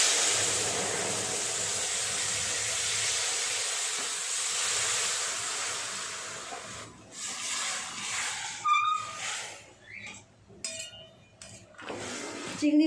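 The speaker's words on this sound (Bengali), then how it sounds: "ঝোলটা এবার ঢেলে দেব।" Broth poured into hot oil fried with five-spice seeds for a prawn curry, giving a loud, steady sizzle that fades after several seconds into softer bubbling and clinks.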